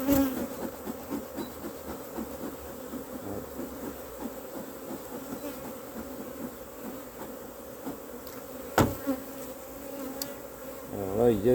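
Dense, steady buzzing of a honeybee colony around an opened hive stacked with supers, a colony heavily used for making artificial swarms; the hum stays constant and close throughout, with a few soft knocks near the end.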